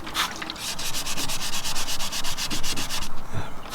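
Gel coat being wet-sanded by hand with 400-grit wet-and-dry paper on a small sanding block, a steady rapid back-and-forth rasping close up that continues for several seconds, then eases.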